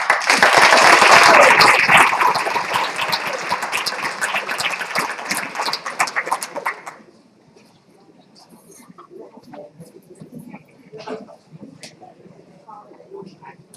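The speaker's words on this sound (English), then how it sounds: "applause for our honorees" Audience applauding honorees at the 2016 IDEA Artist Legacy Awards, loud dense clapping for about seven seconds before dying away into faint room noise and scattered sounds.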